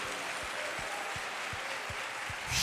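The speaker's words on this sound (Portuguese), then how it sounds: "Então dê um aplauso forte a Deus." A Wednesday evening church congregation claps for God in a soft, distant burst of applause, with a faint rhythmic low thump repeating underneath and a sudden swell of sound near the end.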